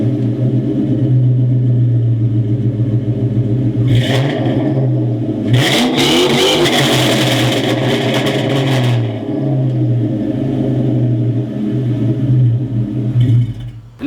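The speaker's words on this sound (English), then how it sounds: "Now the exhaust setup I have on this car is an off-road BBK-X pipe with Flowmaster 40s." Ford Mustang GT with a BBK off-road X-pipe and dual-chamber Flowmaster 40 mufflers, idling with a deep burble, then blipped in two sharp revs, the second held longer, before settling back to idle.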